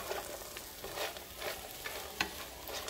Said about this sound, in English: Now what I'm going to do now is I'm going to add in my bacon.